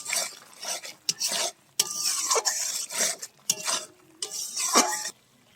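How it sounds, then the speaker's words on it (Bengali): Spice paste frying in oil in a pan for a Bengali rui fish curry with potatoes, a spoon scraping and stirring in repeated close strokes over a soft sizzle. "ভালো করে মশলাটাকে কষিয়ে নিব"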